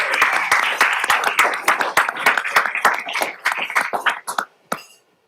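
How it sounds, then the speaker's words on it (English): A city council meeting audience applauds athletes from a national champion team, a burst of close, dense hand clapping that thins into scattered separate claps before fading out. "Please give a round of applause to our athletes."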